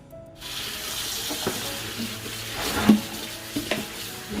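Tap water runs steadily into a sink while foraged roadside vegetables are washed, a soft continuous hiss with a few light splashes and clinks near the end.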